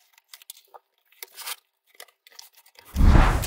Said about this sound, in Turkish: İlk önce bandını bir açalım.